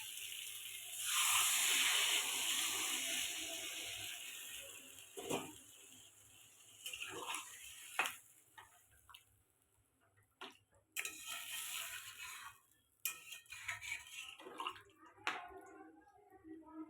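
Water pours into a cooking pot with a gushing splash early on, followed by scattered clinks, drips and knocks at a quiet level.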